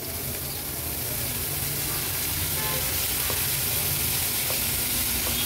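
Chopped fenugreek leaves frying with turmeric in a pan give a steady, even sizzle that carries on alone at moderate level for several seconds.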